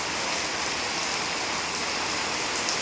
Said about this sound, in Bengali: বৃষ্টিটা কিন্তু একদম ভালোই জোরে হচ্ছে